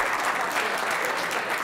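Audience at a stand-up comedy show applauding steadily, a dense even wash of clapping that holds at the same level throughout with no voices above it.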